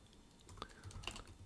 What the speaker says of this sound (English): If I'm just typing over this